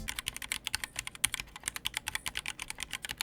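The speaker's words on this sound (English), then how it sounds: "improving the sound and the typing experience of this keyboard" Rapid, steady typing on a $99 keyboard modded with replaced switches, close up and alone, with crisp, evenly spaced keystrokes.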